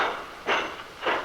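A departing train heard as two loud, rhythmic whooshing bursts about half a second apart, like passing cars, over a hissing rail background, with no talking.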